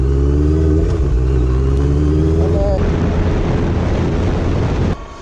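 A motorbike engine runs steadily with a deep, loud rumble, close by, then cuts off abruptly near the end.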